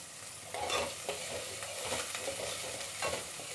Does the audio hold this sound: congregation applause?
no